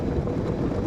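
Broadband engine roar of a private jet coming in to land at a small private airport near Loch Earn, steady and fairly loud throughout the brief moment, with no speech.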